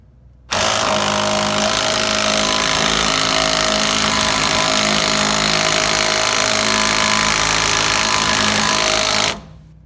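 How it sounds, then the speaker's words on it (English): A steady, harsh mechanical rattle of rapid impact hammering on a metal track bar bolt of a 2008 Dodge Ram 1500 runs loud and unbroken for several seconds, then stops abruptly. "we're gonna hammer down and see if we can get it off"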